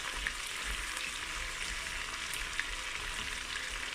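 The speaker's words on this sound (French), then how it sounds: "On va laisser fondre un peu l'ail et l'oignon" Garlic and onion softening in a Cookeo multicooker give a steady, fairly faint sizzle that runs without a break, with a few tiny pops and no voices.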